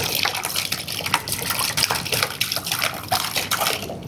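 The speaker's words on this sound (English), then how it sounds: "I'll pour the same water from the same bottle." Water pouring out of a bottle in a steady, gushing splash that bubbles and glugs irregularly, close and continuous for several seconds, with no talking.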